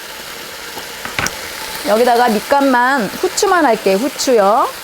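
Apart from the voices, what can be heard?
pork neck steak sizzling in a hot frying pan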